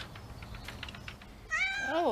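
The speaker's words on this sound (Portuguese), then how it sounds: "voluntários que acariciam gatos perdidos e abandonados" Cats at a volunteer-run shelter for lost and abandoned cats in Bristol, England, meowing: faint rustling and soft taps at first, then a clear, rising, drawn-out meow near the end, close by.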